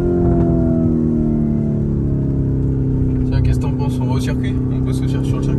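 Lamborghini Urus SUV with a 650 hp engine driving, a steady loud engine drone with harmonic tones rising slightly, continuous throughout under people talking inside the car.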